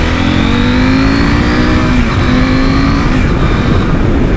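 A 2023 KTM 890 SMT supermoto touring motorcycle engine revs loud and close, the pitch climbing and dipping through sustained throttle with no speech.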